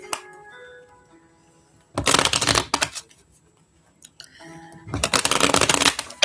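Tarot cards are shuffled in two brisk riffling bursts, close and crisp, separated by a quieter pause with faint background tones.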